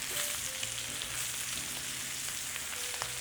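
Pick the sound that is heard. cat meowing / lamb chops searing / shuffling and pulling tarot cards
lamb chops searing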